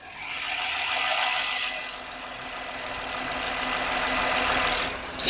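A Renault Kwid hatchback's engine idles steadily, a moderately loud, even hum with a faint ticking texture and a brief knock at the end.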